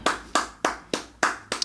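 Hands clapping in a steady rhythm, six sharp claps about a third of a second apart, close and fairly loud with no other sound.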